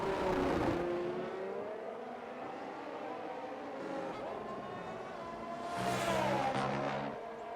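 Formula 1 cars in the F1 23 game, among them the Aston Martins, roaring around the Las Vegas or Britain track with high, sustained engine whine, rising and falling pitch as cars pass and shift, loud and continuous.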